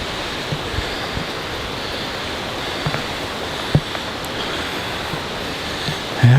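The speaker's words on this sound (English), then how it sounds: "Wow, is that ever windy?" Strong wind roars steadily, with gusty rumbling buffeting and a few soft knocks, no voices.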